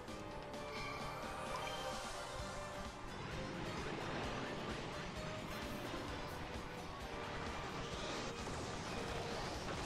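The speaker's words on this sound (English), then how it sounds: "turn on the water" Rushing water surges loud and continuous in Paper Mario The Origami King, with crashing, wave-like washes and clattering hits across the whole stretch.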